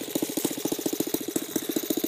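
A Saito FG14-B single-cylinder gas engine converted to RCEXL ignition runs at a fast, even idle, its sharp regular firing pulses close and loud with nothing else heard.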